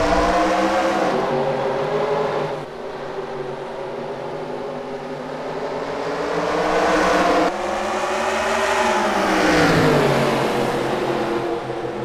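Race cars accelerating hard after the green flag of a heat at the Duralast Shootout at Lake Erie, a loud sustained engine roar with rising and falling revs as the field passes, no talk over it.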